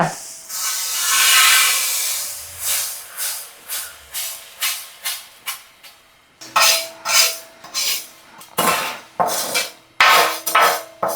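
Urad dal is stirred as it roasts golden in a pan while making homemade pickle, giving a series of rhythmic scraping, rubbing strokes, a pause, then more strokes close by.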